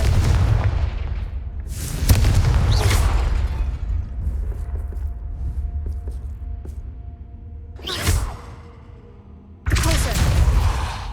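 Blasting-spell explosions go off in Hogwarts Legacy, several loud broadband booms with rumbling tails, the clearest bursts near the end.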